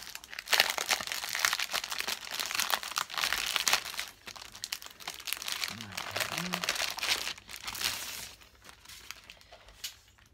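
Sheets of 12x12 scrapbooking paper rustle and crinkle continuously while being handled, close and fairly loud, with a brief voice murmuring midway and the handling fading toward the end.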